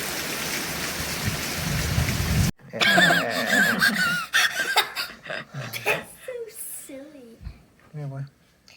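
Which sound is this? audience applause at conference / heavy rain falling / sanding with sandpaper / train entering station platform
heavy rain falling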